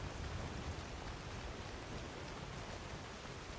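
Heavy rain falls in the video game Skyrim, a dense, constant patter with a low rumbling undertone, steady and quiet, with no voices.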